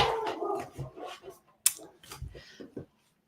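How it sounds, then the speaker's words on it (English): Dogs bark and yip in a few short, uneven bursts with whimpers in between, fairly close and moderately loud, and no words spoken. "I feel like I always have dogs barking in my videos"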